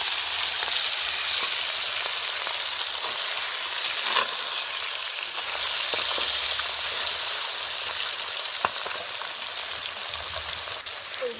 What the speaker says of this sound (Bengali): সর্ষের তেল দিয়ে দিলাম, দিয়ে পরে এবারে মাছগুলো ভেজে নেব